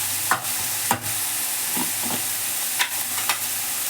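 A spatula scrapes and stirs red chili powder, turmeric, coriander powder and garam masala frying in a pan, giving a steady close sizzle broken by several sharp scraping strokes.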